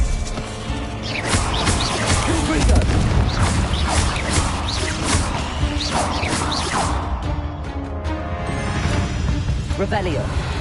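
Spell blasts from Bombarda and similar casting in Hogwarts Legacy land as loud booms and crashes amid whooshes and clatter, continuous and dense, with a voice speaking over the action.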